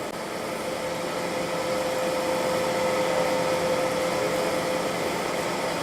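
A grinding machine wheel being dressed while it moves transversely, producing a steady broadband machine roar with a thin, constant whine running through it, unchanging and continuous throughout.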